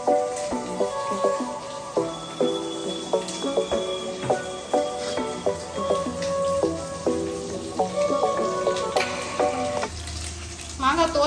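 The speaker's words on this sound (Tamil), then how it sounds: "வெங்காயம் வந்து நான் சிம்ல வச்சிட்டேன்" Onions frying gently on simmer in a pan, with a soft sizzle under repeated clinking, tapping kitchen sounds at a regular beat.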